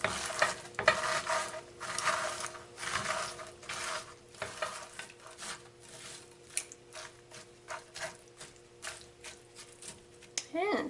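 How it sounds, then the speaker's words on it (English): Taco-seasoned food being mixed in a pan, quiet scraping and stirring strokes in irregular bursts with a faint sizzle underneath. "And mix it up."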